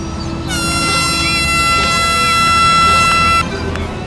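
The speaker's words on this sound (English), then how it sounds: "Use the right trigger to blow the horn." Air horn blown to scare seagulls in the Final Approach VR game, a single loud, steady blast lasting about three seconds before cutting off.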